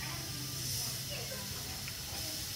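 Air hisses steadily while a tyre on a motorbike is being inflated outdoors, a faint, continuous breathy stream with a voice speaking briefly.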